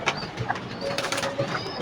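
Young domestic pigeons, three to four months old, coo softly over a steady background hiss in a short stretch of low, throaty calls.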